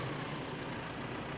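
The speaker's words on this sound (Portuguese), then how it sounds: "Foi com o ronco do trator." A farm tractor's engine roars in a loud, continuous drone with a heavy low rumble and no breaks.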